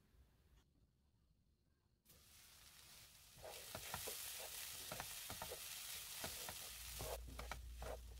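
Sweet potato and carrot cook in a covered pan over low heat, giving a steady soft sizzle with scattered small crackles and pops that grow louder partway through.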